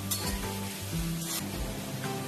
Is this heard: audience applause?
no